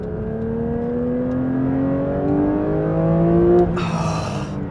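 A 2024 Porsche 911 S/T engine revs high through a lower gear, its rising pitch climbing steadily and loud for several seconds before a brief upshift, with no talking over it.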